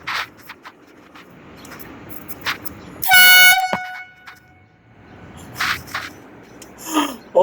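A single loud, brassy Ecoblast air horn blast lasts about half a second, close by, against quiet outdoor background noise with some breathy sounds before and after.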